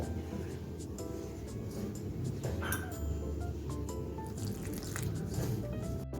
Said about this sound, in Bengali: আমি হাতেই মেখে নিচ্ছি এটা হাতে মাখলেই ভালো হবে